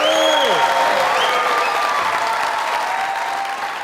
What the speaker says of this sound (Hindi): आप लोगों की ढेर सारी तालियों में